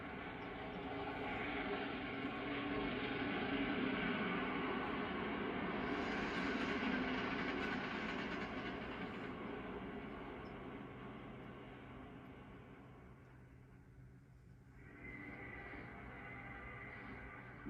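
Westbound New York Central Big 4 train of the 1940s–50s rumbles past a tower at a railroad crossing, a long, steady roar of rolling cars that fades slightly before a brief lull and resumption, heard from a distance.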